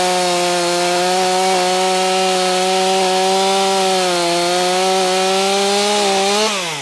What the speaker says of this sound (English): Right, let's cut some oak.